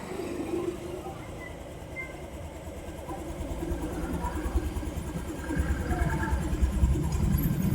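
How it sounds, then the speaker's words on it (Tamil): Honda Activa E20 scooter engine running steadily, the rumble building and growing louder toward the end as the valve is opened and the revs rise, heard close. "நீங்கள் திறக்கும் போது ஆட்டோமேட்டிக்காக வந்து உங்களுக்கு இன்ஜின் ஆர்பிஎம் வந்து நல்ல ரேஸ் ஆகும்"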